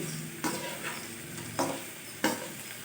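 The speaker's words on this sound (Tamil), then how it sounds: "எண்ணெயில் சேர்த்துட்டு நல்லா வதக்கணும் இந்த பீக்கங்காவை" Ridge gourd sautés in hot oil for a thuvaiyal, making a soft steady sizzle broken by three distinct spatula scrapes, close and clear, with no voice.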